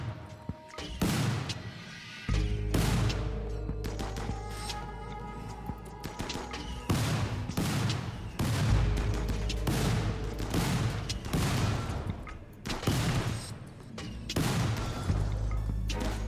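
Repeated bursts of gunfire and booming impacts in a RimWorld colony battle, loud volleys crackling in irregular clusters for the whole stretch with no speech.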